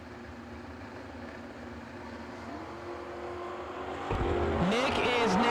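A Mustang race car fires off at a drag strip during a no-box bracket event, its engine rising from a distant rumble to a louder, closer roar in the last seconds under a continuous background din.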